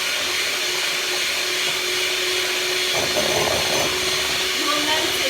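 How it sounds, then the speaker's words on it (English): An electric whisk beats egg whites for Eton mess, a loud continuous motor whir with a steady pitch that roughens slightly midway, with a voice faintly underneath. "we're going to start whisking this until it turns from a liquid to a solid"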